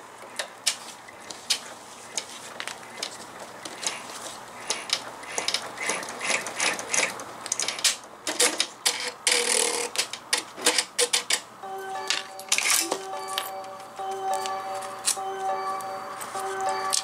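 Embroidery machine stitching the placement line for an in-the-hoop wallet, rapid mechanical ticking and clattering throughout, close and steady with busier bursts midway.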